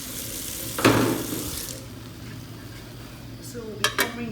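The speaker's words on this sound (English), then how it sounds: "So we'll be covering this with our pot." In a home kitchen cooking chicken noodles, a metal pot is set down as a cover with a clattering knock, followed by quiet sizzling and a couple of sharp clinks near the end.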